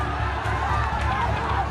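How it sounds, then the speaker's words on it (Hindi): An angry crowd runs in pursuit of police and RAF personnel during unrest, a rumbling mass of footsteps and raised voices heard from close by. "भीड़ पुलिस और आरएएफ के जवानों को दौड़ा रही है।"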